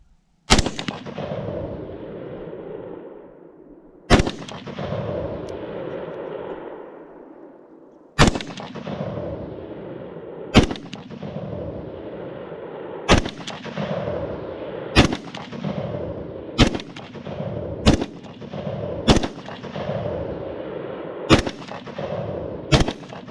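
A 10.5-inch PSA AR pistol fires loud single gunshots at an outdoor shooting range, eleven sharp reports with slow gaps that tighten into a quicker rhythm, each trailing off in an echo.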